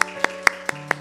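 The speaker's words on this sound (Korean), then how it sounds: "우리 박수로 한번 격려하도록 하겠습니다" Church congregation clapping together at a Sunday service, five sharp, evenly spaced claps about a quarter second apart, fairly loud over a faint sustained background tone.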